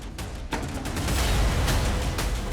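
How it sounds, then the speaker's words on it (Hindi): A door is forced open during a police raid in a Rajasthan crime drama: several heavy, noisy bangs and thuds ring out over a dense, rumbling wash of noise, loud and close. "तोड़ो दरवाजा,"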